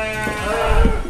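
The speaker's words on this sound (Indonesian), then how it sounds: "ini contoh 2 domba terbesar yang kita punya" Large horned rams bleating, a loud, close, drawn-out bleat over a noisy, busy background.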